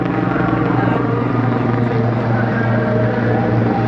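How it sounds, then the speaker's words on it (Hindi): Helicopter carrying Nitin Gadkari coming in to land at a large gathering in Buxar, Bihar, a loud steady rotor drone with rhythmic chopping, close and continuous, with voices underneath. "नितिन गडकरी का जो हेलीकॉप्टर है वो अब उतरने वाला है यहाँ पर"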